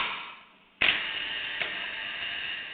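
A drilling station machine starts up again with an abrupt onset, then settles into a steady mechanical whir and hum, with one brief click partway through and no talk.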